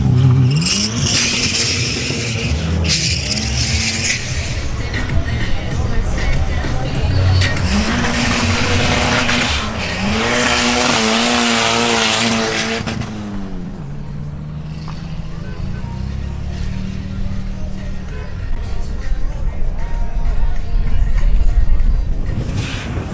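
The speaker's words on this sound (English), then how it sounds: "Now presenting Raul Gonzalez in his Renault 18 GTX Turbo." A Renault 18 GTX Turbo makes a drag-strip run, its engine loud and close, climbing through several rising revs and gear changes before the sound drops away to a quieter, rumbling background.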